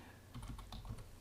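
Quiet, quick keystrokes on a computer keyboard, a short burst of several close clicks in an otherwise still room.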